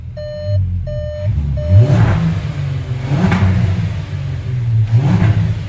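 VW Atlas engine with an upgraded exhaust, opening with a few reversing-style beeps and then idling with a throaty, close drone. It swells through several short revs, heard loud and near.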